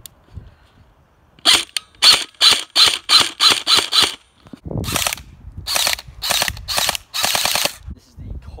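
An airsoft gun fires on full auto in two quick bursts of sharp mechanical clacks, loud and close, with brief pauses between the strings of shots.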